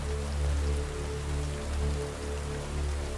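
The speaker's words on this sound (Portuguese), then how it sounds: "Somente o barulho da chuva no teto da cabine." Steady rain drumming on a metal roof, a dense continuous patter with a low resonant rumble, no voices.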